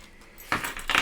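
Door keys jangle in two short metallic bursts over a quiet background, fairly close and moderately loud.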